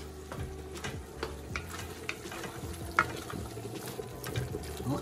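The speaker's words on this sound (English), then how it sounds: "Okay, I'm gonna make this simmer for 2 to 3 minutes." Shepherd's pie filling simmering in a pan, a soft continuous bubbling sizzle with light spoon clinks and stirring ticks, faint and steady throughout.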